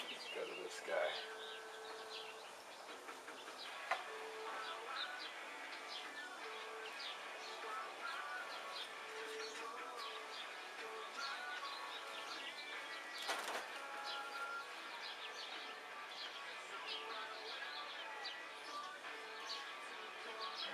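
Birds chirp outdoors on a warm day, faint and scattered short calls over a soft, steady background hiss.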